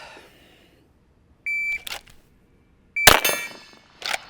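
Two clear electronic shot timer beeps a second and a half apart, each followed by sharp loud gunshot cracks, with a quick burst of shots after the second beep.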